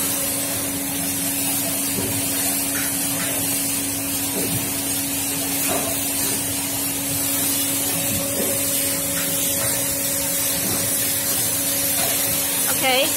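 A spray gun in a barrel painting machine coats a barrel with paste, giving a loud, continuous hiss over a steady machine hum that runs unbroken throughout.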